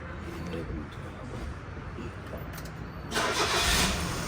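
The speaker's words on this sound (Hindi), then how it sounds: "ऑयल वगैरह डाल के हमने गाड़ी स्टार्ट कर दी है इंशाल्लाह।" An old Suzuki Cultus fitted with a 660cc K6A dual cam engine cranks and starts. The noise swells to a louder, steady running sound near the end.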